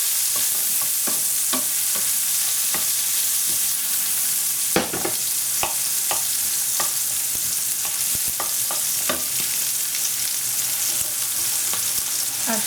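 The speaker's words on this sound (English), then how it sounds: "capsicum. Just saute them in the small amount of oil." Capsicum sautéing in a small amount of oil for prawn spring rolls, a steady close sizzle broken by repeated sharp scrapes and clacks of stirring throughout, with no talk.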